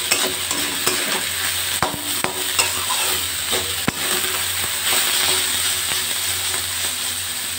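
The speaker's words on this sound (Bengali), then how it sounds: "থোড়গুলো ভাজা হচ্ছে, মাঝে মাঝে খুন্তি দিয়ে নেড়ে দিতে হবে।" Chopped banana stem fries over a high gas flame, with a loud, continuous sizzle close by and repeated sharp spatula scrapes and clicks against the pan.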